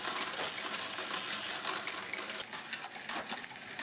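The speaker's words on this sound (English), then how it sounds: "The magnetic elevator lifts marbles from the bottom to the top." A 3D-printed, Arduino-controlled magnetic marble machine runs steadily, with marbles rattling and clicking along plastic tracks and a magnetic elevator. The sound is a dense, continuous patter of small impacts with no voices.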